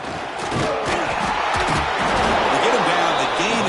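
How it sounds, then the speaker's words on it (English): A packed stadium crowd roars in a football video game, a dense, loud and continuous wall of cheering that swells after the first half second and holds steady, with commentary voices mixed in. "listen to this crowd noise. This stadium is vibrating"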